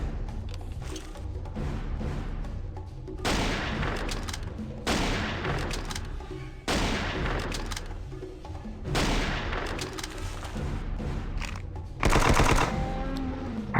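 Sustained bursts of gunfire from Jurassic Park Hunter Legends, loud and close, coming in several dense rattling volleys separated by brief lulls, with a sharper heavy burst near the end.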